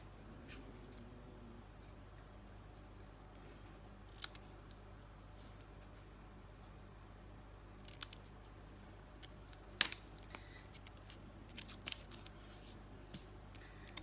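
Scissors trim a strip of card stock for a handmade easel spinner card, with a few sparse, sharp snips standing out over a steady low room hum, close by and quiet, with no talking.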